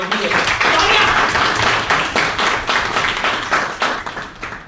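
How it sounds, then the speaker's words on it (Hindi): Staff at a team-building and conflict-resolution session at Kisaan Die Tech Pvt Ltd applaud with loud, close clapping that pulses in uneven bursts for several seconds, while voices can be heard underneath. "इनके लिए जबरदस्त ताली होनी चाहिए।"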